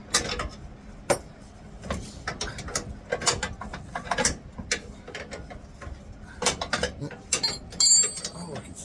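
A ratcheting wrench clicks in quick bursts of rapid, close-up ratchet ticks, separated by short pauses and small metallic knocks.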